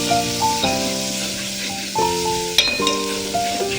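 Onion paste sizzling steadily in a pan while it is stirred, with soft scraping through the frying, set under sustained background music.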